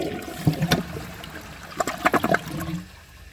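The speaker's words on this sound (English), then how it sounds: "So let's give this a flush and see how it does on tests" An original-parts 2009 American Standard Cadet 3 toilet with a 10-inch rough-in gives a weak, short flush: a brief close rush and gurgle of water with a few splashy bursts, then a thin trickle as the tank refills.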